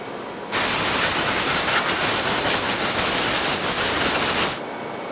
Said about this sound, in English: We drill about 5 inches deep to give the firing pin clearance